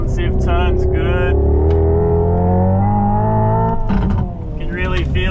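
A 650hp Hyundai IONIQ 5 N electric performance car accelerates hard on a track, its rising electric whine and whir steady and loud throughout while someone talks over it.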